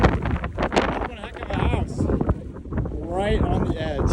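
Gusty wind at the Trolltunga cliff edge in Norway buffets the microphone with rough low rumbling, while voices are heard faintly underneath.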